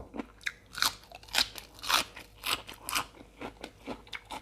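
Loud crunching bites and chewing of a pounded salad made with green snake vegetable and squid, up close, in a steady rhythm of crisp bursts with no talking.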